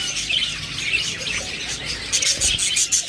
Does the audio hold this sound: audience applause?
no